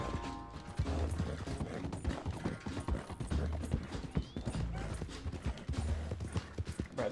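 In Red Dead Redemption 2, rhythmic hoofbeats of a galloping horse pound steadily and close, with faint mechanical clicking and whirring in the background.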